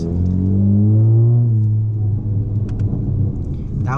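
A Honda Civic Sport with a K20C2 engine, CVT and catless downpipe exhaust gives a loud, close, rumbling rev that rises and then drops away as the throttle is released, followed by a rough burbling exhaust note.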